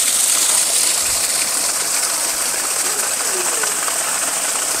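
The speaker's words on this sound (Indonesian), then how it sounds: "bisa dilihat ya semburan airnya itu kenceng sekali" A modified Jet 175 water pump sends out a strong water jet, a steady, dense gushing hiss that holds without a break.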